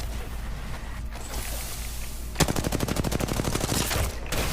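Rapid automatic gunfire in Apex Legends bursts in partway through, a close, loud rattling stream of shots following a quieter stretch of game ambience.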